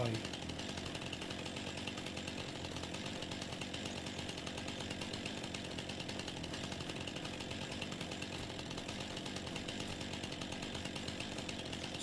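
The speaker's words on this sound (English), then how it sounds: "Let's turn this chainsaw off for a minute." Chainsaw running continuously in Farming Simulator 25, a steady buzzing engine drone at constant pitch that holds evenly for the whole stretch, moderately loud and alone.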